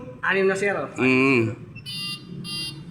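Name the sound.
fire detection alarm system panel buzzer sounding during test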